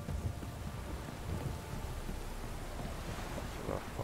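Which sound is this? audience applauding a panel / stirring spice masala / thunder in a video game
thunder in a video game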